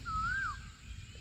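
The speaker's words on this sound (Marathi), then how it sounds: "कोकिळा किती जोरात ओरडते कुळ कुळ" A single smooth whistled call of an Asian koel slides upward and dips, clear and fairly loud above a low background rumble.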